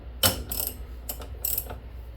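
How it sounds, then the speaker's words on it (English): A torque wrench ratchets while a wheel bearing is torqued down, giving a few quick bursts of sharp, close metallic clicks. "we're gonna actually like torque this."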